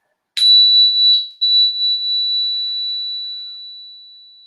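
A meditation bell is struck once, giving a clear, pure ringing tone that swells again briefly and then fades slowly into silence.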